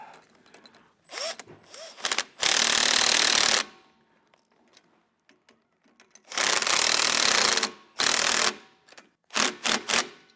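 Ratchet wrench snugging down U-bolt nuts during a steering stabilizer install on a 2021 Winnebago, heard as several loud bursts of rapid clicking separated by quiet gaps and small handling noises.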